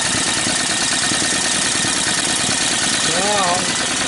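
A Briggs & Stratton 18hp opposed-twin engine with dual carbs and dual exhaust idles steadily and loudly up close, a dense constant drone, with a voice briefly speaking over it near the end.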